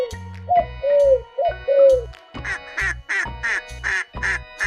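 A duck quacking loudly and near in a steady series of short, evenly spaced quacks over a light rhythmic beat.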